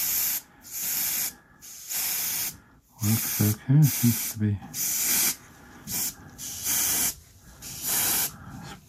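A Harder and Steenbeck airbrush sprays paint on a diorama base in repeated short hissing bursts, some sputtering, while someone talks between and over the sprays.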